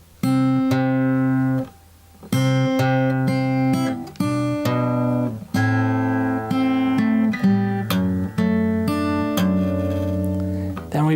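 Solo guitar playing the second half of the bridge of a song, fingerpicked bass notes and chords ringing in a slow, flowing sequence, close and clear without talk.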